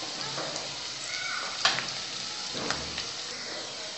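Onion frying lightly in a pan, a steady close sizzle with a couple of brief stirring clinks partway through, and no voices over it.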